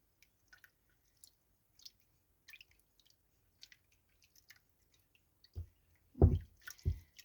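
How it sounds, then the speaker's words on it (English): A hand mixes homemade paper pulp around in a bowl of water: scattered faint drips and ticks, then a few louder wet squelches and sloshes close by toward the end. "And then you just mix it around in the water."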